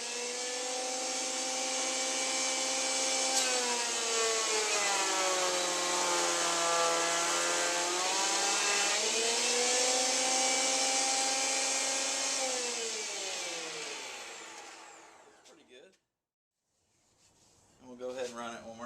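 A Jet 8-inch jointer planer whines loudly and steadily for about fifteen seconds as a rough poplar board feeds through, its pitch dipping slightly under load before it spins down. A few knocks follow after a brief silence.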